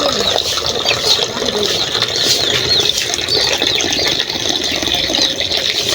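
Water is poured out steadily for animals to drink, making a continuous loud gushing splash close by, with a voice faintly mixed in.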